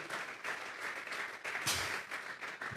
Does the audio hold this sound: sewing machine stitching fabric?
no